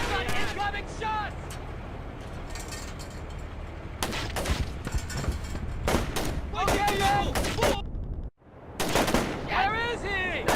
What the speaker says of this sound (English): There's an incoming shot!